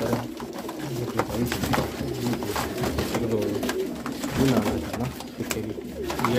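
Several crested fancy pigeons at a bird sale in Amritsar, Punjab, give a dense, continuous chorus of low rolling coos, close and fairly loud, with faint voices in the background.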